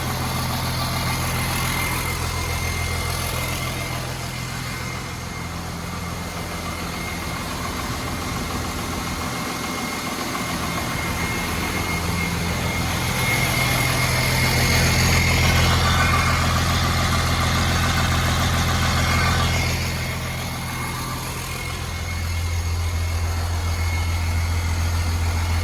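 A 1940 truck fitted with a 12 valve Cummins diesel idles alone with a steady, deep, close rumble that swells somewhat louder for a few seconds midway before settling back to a constant chug.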